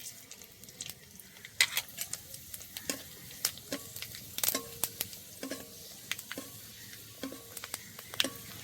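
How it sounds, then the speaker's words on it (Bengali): Whole dried chillies, bay leaves, fennel, cumin and a cardamom pod sizzle in hot oil for a vegetarian paneer curry, a steady close crackle broken by sharp pops and stirring scrapes, with no voices. "দিয়ে দেবো গোটা শুকনো লঙ্কা, তেজপাতা, মৌরি আর জিরে আছে, আর একটা এলাচ আছে, একসাথে দিয়ে দেবো।"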